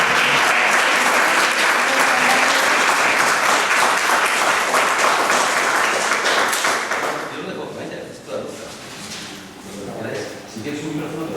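Audience at a film screening applauds the director, a loud, dense wash of clapping that fills the first seven seconds, then thins to scattered claps as a voice begins talking.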